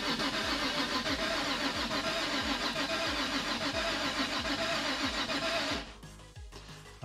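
A Nissan 350Z engine cranks with a rapid, rhythmic starter churn for several seconds, loud and close, then cuts off abruptly into quieter clicks and rattles, no voices.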